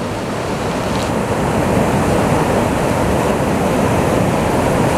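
Conococheague Creek at Kemps Mill in Washington County, Maryland, runs high and fast, giving a loud, unbroken roar of rushing water that fills the whole stretch, with faint wind buffeting the microphone.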